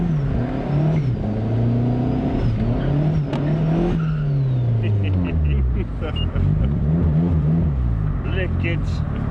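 A turbocharged Mazda MX5 Miata NB with a 1.8 engine accelerates at partial throttle, its engine note climbing and falling through gear changes with a faint turbo whine, heard from inside the car as people talk.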